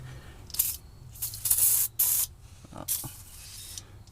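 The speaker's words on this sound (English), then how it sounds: "We're going to spray." An aerosol spray can, used while working on a 6.0 Powerstroke truck, hisses out in several short, sharp bursts of varying length, with quieter gaps between them.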